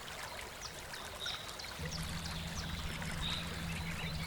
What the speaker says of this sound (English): you'll see here the water's cresting over the roadway now